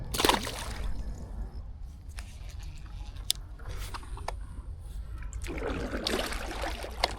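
A hooked bass thrashing at the surface, with loud bursty splashes at the start and end around a stretch of softer dripping and lapping water.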